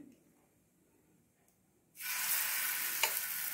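Batter hits a hot ghee-greased pan for a light vegetable breakfast, and a loud, steady broadband sizzle bursts in abruptly after near-silence, then holds close and continuous with no talk over it.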